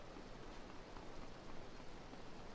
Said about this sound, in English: Oh damn, man, it's raining.